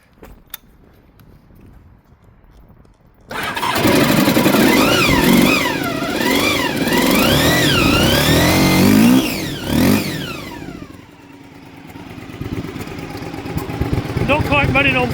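A barn-find Honda VF1000R motorcycle, running roughly and not firing on all four cylinders, bursts into life after a quiet start, then revs loudly in wavering climbs before dropping back to a ragged idle, with occasional speech nearby.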